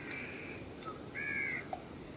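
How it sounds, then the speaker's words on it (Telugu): Crows cawing at Vizag zoo, a few short harsh calls over a steady outdoor background hum, moderately distant and fairly faint, with no talking. "నేచర్ని ఎంజాయ్ చేసే వాళ్ళకి బర్డ్స్ సౌండ్స్ అవి వింటుంటే భలే హ్యాపీగా అనిపిస్తుంది కదండి"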